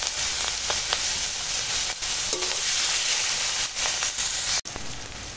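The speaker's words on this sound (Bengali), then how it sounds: "এবার রাখা পেঁয়াজ দিয়ে দিলাম।" Chopped onions fry in hot oil with cumin in a pan after fish, giving a steady loud sizzle with occasional stirring scrapes and brief clicks, no voices.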